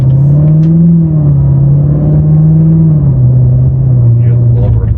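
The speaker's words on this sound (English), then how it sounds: "Hear the blower a little bit there." Loud, steady drone and whine from the supercharger of a 2019 Corvette ZR1 cruising in touring mode, heard from inside the cabin as a sustained tone that dips slightly toward the end, with people talking.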